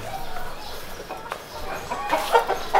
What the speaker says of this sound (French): Donc ils ont des poules.